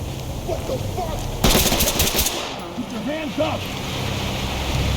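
Gunfire in the tactical shooter game Ready or Not: one loud, close burst of rapid automatic shots lasting under a second, with a player talking around it over low background ambience.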